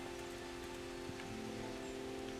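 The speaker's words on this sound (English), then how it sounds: "Oh, it's raining again." Rain falls steadily in the video game Kingdom Come: Deliverance, a constant faint hiss with no talking.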